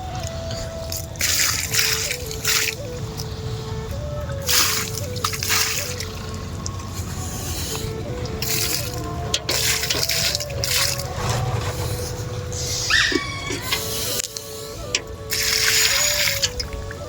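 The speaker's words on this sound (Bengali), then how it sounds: "তো বন্ধুরা সব বেগুন গাছে জল দেওয়া শেষ।" Water is poured onto eggplant plants in a home garden, with splashing and trickling that come in uneven bursts over a steady background hum and wavering tonal whine.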